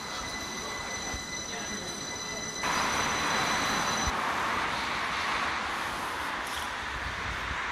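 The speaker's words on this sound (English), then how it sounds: "waiting now for a tram here in Alvik to take me the rest of the way to Solna" A tram arriving at a stop in Alvik, with a sustained rail roar and high squealing wheel tones that rise into a louder, broader rumble partway through, under a busy city ambience.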